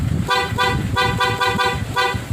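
An aftermarket PIAA car horn, wired alongside the stock horn, blares in several quick, repeated toots, close and loud over a rumbling engine.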